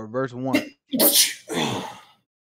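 A sneeze erupts during a Bible study reading, two loud close breathy bursts right after a spoken word, then silence.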